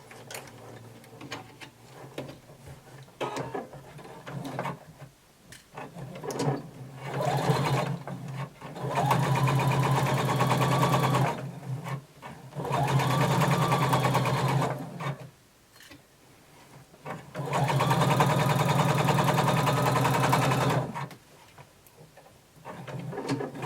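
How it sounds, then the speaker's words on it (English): A sewing machine runs along the seam of a flared skirt in three long, steady bursts of close, loud motor whirring and stitching, separated by short pauses with a few handling clicks. "And now we're going to sew from the bottom up."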